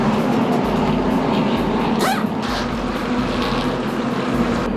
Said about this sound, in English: you're pretty soon not going to be able to hear anything because the cars are going to be going full blast